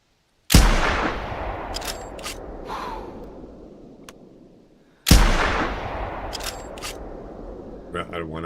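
Two loud rifle shots fired while hunting in theHunter Classic, each a sharp crack with a long echoing tail, spaced about four and a half seconds apart, with faint clicks between and brief talk near the end.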